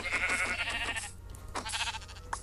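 Minecraft sheep bleat in a plains biome, several wavering, quivering calls close together, then a short pause and a few more bleats over a faint steady game background hum.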